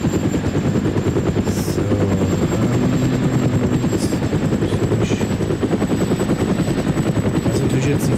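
Helicopter in the video game ArmA, a loud continuous rotor thump and turbine drone held steady throughout, with a brief spoken word over it.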